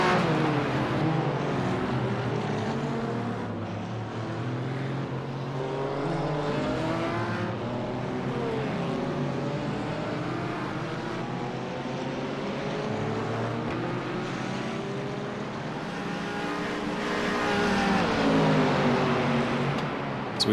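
GT4 and TCR race cars in the sim racing game iRacing at Sonoma Raceway, BMW among them, with a steady dense drone of several engines revving and shifting through corners, pitch rising and falling continuously, close and loud throughout.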